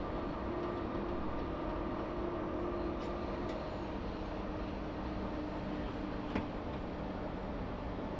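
A BR 442 regional train on the Werdenfelsbahn toward Munich in Train Simulator loses speed on a climb, a steady rumbling roll with faint clickety-clack and occasional clicks, continuous and even throughout.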